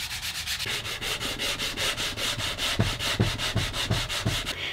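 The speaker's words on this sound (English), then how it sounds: "I'm sanding everything by hand up to 220." A guitar body is sanded by hand up to 220 grit in steady, rhythmic back-and-forth strokes, a close, even rasp repeating about four times a second.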